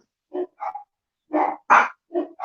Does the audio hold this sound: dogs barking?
yes